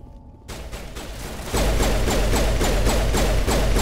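Pistol fire in the sci-fi shooter Mass Effect cracks out in a rapid regular series of loud shots, about a dozen evenly spaced bursts over a thick battle din.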